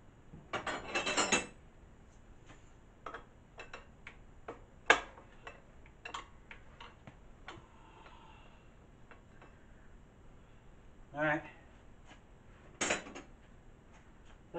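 A wrench working the bearing nut on a 20-inch Mongoose girl's bike, heard as sparse metallic clicks and ticks with a few louder scraping bursts, close by, with no talking.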